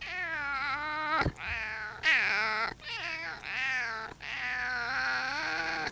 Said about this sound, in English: His meow sounds like he's been smoking 2 packs a day for the past 40 years.